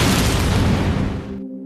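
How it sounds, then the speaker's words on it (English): Loud film explosion with a broad roaring blast that fills the first second and a half, then cuts off abruptly, leaving a low steady hum. "Mr. Lim was suddenly blown up in an explosion."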